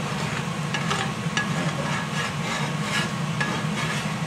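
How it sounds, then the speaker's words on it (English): Eggs scrambling in butter on a flat-top grill give a steady, close sizzle with faint scraping stirs running through it. "Literally just scramble them a little bit in the pan, not before."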